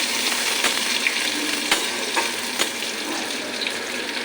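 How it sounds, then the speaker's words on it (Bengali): Chopped onions fry in a pan over lowered gas, giving a steady, close, broadband sizzle with a few faint clicks and scrapes throughout and no talking. "পেঁয়াজ কুচুরগুলো দিয়ে দেব পেঁয়াজটা একটু হালকা করে বাজা করে নিই"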